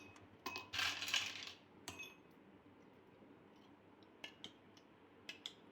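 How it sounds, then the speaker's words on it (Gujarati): Ice cubes drop into a glass of fennel sharbat, a cluster of bright clinks and rattles early on, followed by a few sharper isolated clinks later against a quiet background. "થોડુંક આપણે બરફ નાખી દેવાનું"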